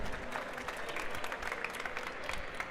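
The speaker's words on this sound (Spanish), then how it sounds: "Aplauso, Carmen." An audience applauds at a talk about open source software, a dense, even wash of clapping that holds steady and fairly soft for a few seconds.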